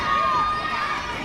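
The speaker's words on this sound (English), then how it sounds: "the crowd here trying to get the referee's attention" Wrestling arena crowd at a Superstars of the Ring event, a dense, steady roar of shouting and cheering voices filling the hall, close and continuous throughout.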